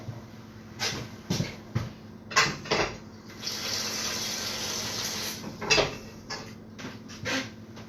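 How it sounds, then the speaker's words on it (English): Water runs from a kitchen tap into a container in uneven bursts and a longer steady pour, with splashing and a hollow filling sound, nearby and moderately loud with no talk. "I actually need some more water."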